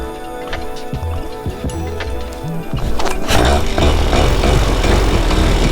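A paramotor engine runs after a second pull start and then cuts out, its broadband motor noise loud and close in cold outdoor conditions with no talking.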